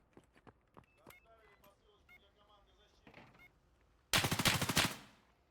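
Burst of rapid automatic gunfire in a competitive shooter video game match on the Iceberg map, loud and sharp, arriving after a stretch of quieter clicks and game sounds.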